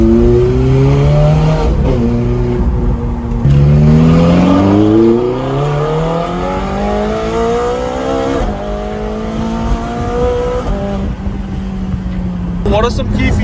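A Nissan GT-R engine revs hard and climbs through its gears with abrupt, punchy F1-style shifts during a ride in someone's car. The loud, close engine drops in pitch several times at each sharp gearchange before rising again, with voices talking over it.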